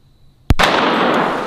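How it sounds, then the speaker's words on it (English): A 2-liter bottle is blown up with a sharp, loud single bang, followed by a sustained hissing spray and rush of debris that lingers for about a second. "Let's just blow up a 2-liter with one."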